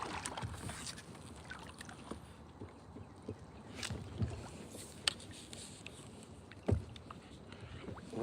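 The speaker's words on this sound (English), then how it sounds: "I paddled up into some land." A kayak paddled across McNeely Lake in the early morning while fishing: soft, irregular paddle splashes and hollow knocks against the hull, close by over a steady outdoor hiss.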